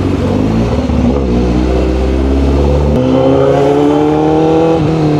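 A Honda CBR1000RR-R Fireblade SP sport motorcycle engine revs hard and loud up close, its pitch climbing, dipping on a shift and climbing again in a continuous, aggressive roar with no talk.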